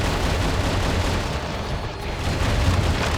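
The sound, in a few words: Gatling gun firing in the video game Metal Wolf Chaos XD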